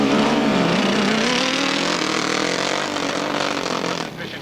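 Sidecar motorcycles race on a 1995 left-hand grasstrack, engines roaring together in a loud, continuous pack with a rising and falling pitch as they pull away, and commentary running underneath.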